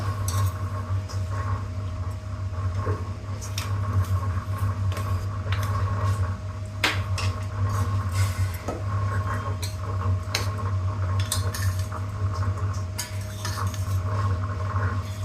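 Steady clinking and scraping of a spoon stirring tempering into boiled horse gram in a metal pot, with occasional sharper clinks over a constant low hum.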